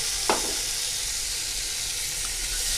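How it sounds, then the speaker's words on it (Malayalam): Tomatoes drop into sizzling onions in a pan for chicken biryani, a brief splash at the start followed by a steady, close hiss of frying that carries on without speech. "ഇനി നമുക്ക് തക്കാളി ഇട്ട് കൊടുക്കാം."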